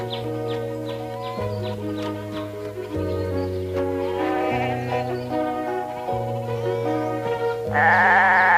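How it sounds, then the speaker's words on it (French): A wavering, vibrato bleat of a goat rises near the end over steady, stepping musical tones. "Quel plaisir de garder des chèvres."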